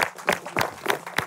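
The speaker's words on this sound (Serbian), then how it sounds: "Ajde, aplauz za deda Mometa!" A handful of people clapping in a slow, uneven rhythm, about five distinct claps in quick succession, applause for grandpa Mome at a home gathering, near and fairly light.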